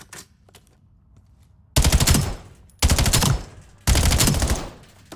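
Three sustained bursts of automatic gunfire from a meta weapon fitted with Gunfighter and a flip mag in Black Ops 7 multiplayer, each roughly a second long and loud, separated by short pauses after a quiet opening.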